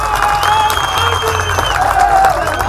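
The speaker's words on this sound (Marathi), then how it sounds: "पुन्हा एकदा महाराष्ट्राने टाळ्या वाजवा" A Maharashtra audience applauding an actor at a public address: dense, loud crowd clapping that holds steady for the whole stretch.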